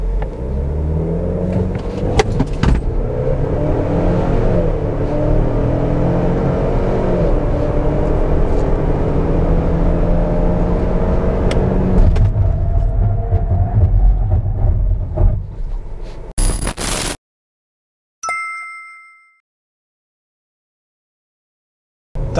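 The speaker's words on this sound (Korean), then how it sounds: "일단 가속 성능 제로백 같은 경우는 8초대로 지금 나오는 것 같고요" A Ford Explorer 2.3 EcoBoost accelerating hard in a 0-100 km/h run, a steady loud engine roar with rising rumble for about seventeen seconds, then a sharp cut and brief clicks before near silence.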